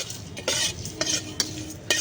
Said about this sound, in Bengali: শুকনো মশলাগুলো আমি ভেজে নেব